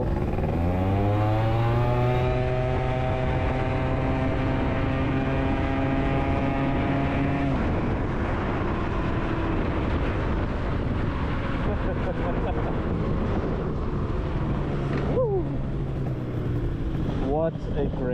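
A modified Yamaha BWS 125cc scooter with a Malossi big bore kit and 22mm carb revs up through its gears, with rising engine whine and quick shifts, then a steady drone and a few sharp blips near the end.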